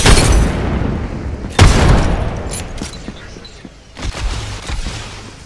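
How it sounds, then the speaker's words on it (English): A grenade blast in Apex Legends: a heavy, loud boom up close, followed by further explosive bursts and crackling gunfire in a busy fight. "Tossing a grenade. Throwing a grenade."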